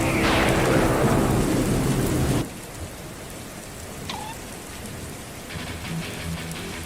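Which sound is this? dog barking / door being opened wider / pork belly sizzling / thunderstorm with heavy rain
thunderstorm with heavy rain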